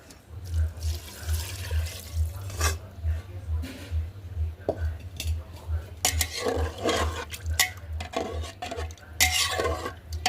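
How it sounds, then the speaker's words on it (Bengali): Running tap water splashes steadily into a sink as a wok is washed, with metal scraping and knocking against the pan in irregular bursts over a constant low hum, no voices. "এই কড়াটা ধুয়ে নিলাম"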